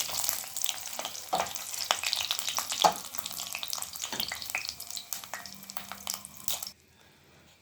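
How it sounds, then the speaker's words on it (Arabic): Sheep tail fat melts and fries in hot oil in a pot, giving a steady close sizzle and crackle with scattered sharp pops. It fades abruptly near the end, leaving brief quiet. "نزلت عندي بالليا، دوبتها كده شويه، خليتها تسيح كده شويه، ولسه برضو بتسيح معايا."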